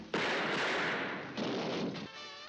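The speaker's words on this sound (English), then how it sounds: "Wait, he shoot everyone." Gunfire from the 1956 crime film The Killing: a loud, dense burst of shots that runs for about two seconds without a break, then trails off into a fainter echoing tail.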